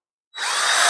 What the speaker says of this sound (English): I've got drill bit queued up in there. We're going to go straight in